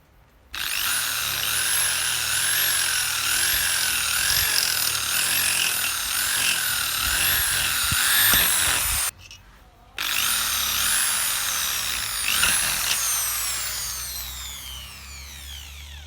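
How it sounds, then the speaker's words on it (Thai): A small electric drill bores a pilot hole to repair a broken tent pole, running in a loud, steady whine with pitch sweeps, cutting out briefly near the middle and then starting again and winding down. "ใช้สว่านเบอร์เล็กเจาะน้ำก่อน"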